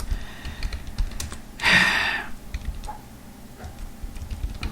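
Fast, light keystrokes on a computer keyboard tap along in an irregular rhythm, with one louder, longer burst of clatter partway through; no one speaks.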